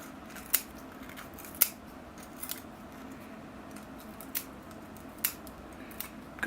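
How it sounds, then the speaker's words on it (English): Scissors snip through bonsai roots and gritty sand growing out the bottom of a small pot, giving a few sharp, close clicks spaced irregularly over a low, steady background. "I'm going to start by pruning off all the roots that have grown out the bottom of the pot."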